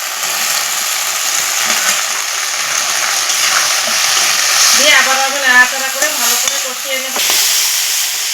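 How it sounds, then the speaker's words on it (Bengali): Homemade soybean chunks made from wheat flour stir-fry with potatoes and garlic, giving a loud, steady frying hiss, with a voice briefly heard partway through. "আলুটা দিয়ে ভালো করে কষিয়ে নিয়েছি এখন যে আমি ভেজে রেখেছি সয়াবিনগুলো এগুলো আমি দিয়ে দেবো"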